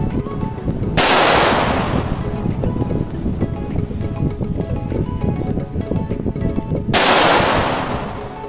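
Two sharp .22 pistol shots several seconds apart at an AR500 steel plate target outdoors, each a loud crack with a brief ringing decay, over steady rumbling background noise.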